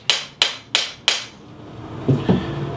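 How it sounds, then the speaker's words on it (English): Four sharp, evenly spaced hammer taps drive a Briley tube set into a Blaser F16 shotgun barrel with an aluminum driving tool, followed by two softer knocks and handling noise. "provided tube set hammer, and again just tap it into place"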